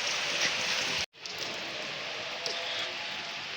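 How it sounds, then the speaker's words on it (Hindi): Heavy rain pours down outside a canteen, a dense steady hiss of falling drops that cuts out for an instant, then resumes just as strongly, with no voices. "ये बारिश के छींटे हैं"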